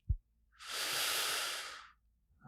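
A single slow, relaxing breath, a soft airy exhale lasting over a second, close and quiet, with a faint bump before it and no talking.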